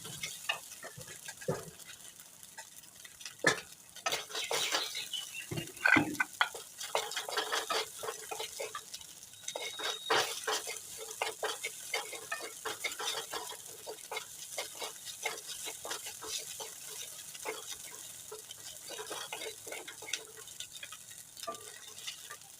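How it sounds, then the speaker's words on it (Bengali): Beaten egg frying and being stirred in a pan for a home-cooked egg dish, with a soft steady sizzle under repeated scraping and clicking strokes of a spatula against the pan, close and fairly quiet. "ডিম ভাজি হয়ে গেছে, এখন আমি একটু নামিয়ে নেবো।"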